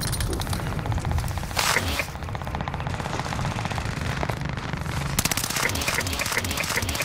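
Rapid automatic gunfire rattles almost nonstop at Godzilla in Warzone Pacific, a close, loud stream of shots with brief pauses and a few heavier bursts in between.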